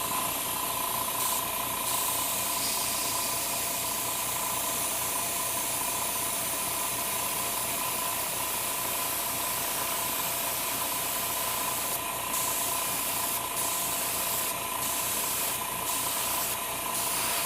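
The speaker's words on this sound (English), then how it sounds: "I also fixed up the problem with the airbrush making that weird sound" An airbrush sprays paint onto a Gundam model kit in a steady, close, continuous hiss of compressed air that runs throughout, with a few short brighter bursts as the spray is pulsed, and no talking.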